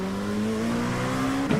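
A NASCAR race car engine at Michigan in a racing video game drones steadily at high revs, the pitch holding then dipping slightly before a brief scuffing burst near the end.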